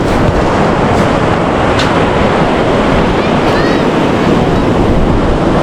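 Loud, steady roar of sea waves crashing and churning nearby, with wind rumbling against the microphone throughout.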